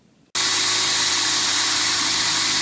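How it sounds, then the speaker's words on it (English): A power drill starts abruptly after a brief hush and then runs at a steady, loud whine while boring holes, continuous and close with no voices. "So Cole's gonna drill some holes for us"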